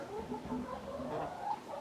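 Hens clucking on a homestead in May, a steady overlapping chorus of soft clucks and murmurs from several birds close by, continuous with no talk.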